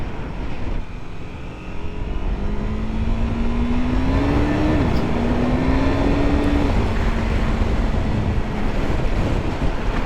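KTM 390 Adventure single-cylinder motorcycle engine while riding, a steady buzzing drone that shifts pitch between gears, heavily buried under loud rushing wind noise, with no speech.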